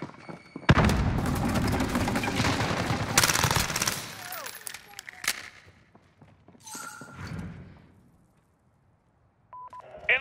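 Grenade explosion and gunfire in Call of Duty Modern Warfare multiplayer: a loud, dense stretch of rapid automatic fire and blasts for about three seconds, then scattered shots, a distant burst and quieter game sounds fading toward near silence.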